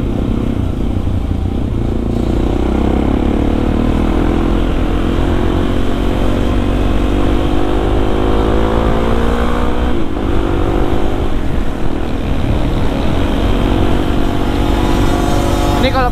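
A Suzuki DRZ 400 supermoto engine runs loud and close on a night ride around Lembang, its steady drone shifting pitch as it revs and changes gear, with wind rush throughout.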